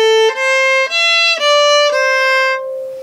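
A bowed string instrument plays a short excerpt of The Irish Washerwoman. Five clear sustained notes step downward and then settle on a long held tone, bright and close, with no voices.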